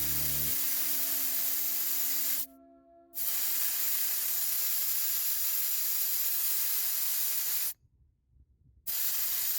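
Air hisses steadily and loudly out of car tires as they are let down, a continuous close spray-like rush broken by two brief pauses.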